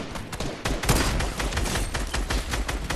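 Dense, rapid gunfire from a Fortnite match, a loud fusillade of overlapping shots and bursts that crackle continuously throughout with no pauses.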